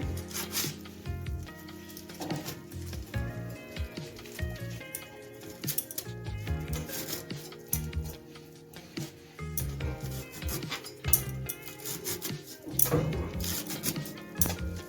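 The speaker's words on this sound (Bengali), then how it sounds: "এখন আমি শাকটা কেটে নিচ্ছি" Knife chopping cauliflower leaf greens on a board, a steady run of close, soft scraping and tapping cuts with no talk.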